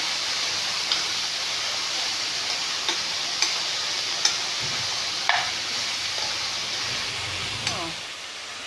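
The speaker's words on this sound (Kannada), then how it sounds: "ಫ್ರೈ ಆಗ್ತಾಯಿದೆ" Ridged gourd sizzles steadily in hot oil with turmeric, punctuated by light ticking taps of a spoon stirring the pan every second or so.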